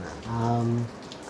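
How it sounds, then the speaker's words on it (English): Rain falls steadily in Kingston, Jamaica, a soft continuous patter with a brief tonal hum rising over it near the start. "We've got some rain here in Jamaica."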